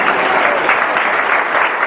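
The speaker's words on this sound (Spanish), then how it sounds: "Denle un aplauso al Señor." A congregation at a Spanish-language regional church conference breaks into loud, dense applause. The steady clapping continues without pause for the whole short stretch, with no voices over it.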